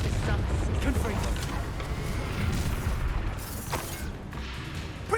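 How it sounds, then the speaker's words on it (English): A Confringo fire spell explodes in a Hogwarts Legacy duel, with booming, rumbling blasts throughout and a sharp burst near the end, over game music and effects. "Time for some Confringo!"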